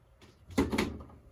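A plastic lid set onto a quail egg incubator gives one short, close clunk followed by a brief rattle as it settles, with faint noise before it.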